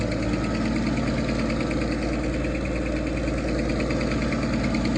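A car engine idling with a possible exhaust manifold gasket leak on the passenger side, a steady close hum with a fast, even ticking running through it.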